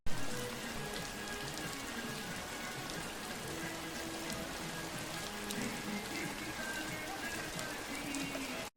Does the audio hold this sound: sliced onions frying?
no